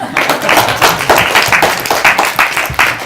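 An audience at a career-mentoring talk on tech and ICT careers breaks into loud, close applause, many hands clapping in a dense, lively patter for a few seconds.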